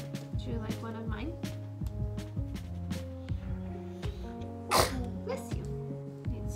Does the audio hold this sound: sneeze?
yes